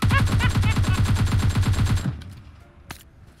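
Rapid automatic rifle fire in PUBG Mobile, a fast regular burst of about twenty close, loud shots that stops abruptly, followed by quieter ambience and one faint distant shot.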